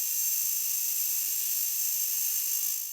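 A Makita DHR182Z 18V compact cordless rotary hammer drill strains through a 25 mm hole in concrete, giving a steady, loud high-pitched whine and grinding buzz that holds without pause throughout.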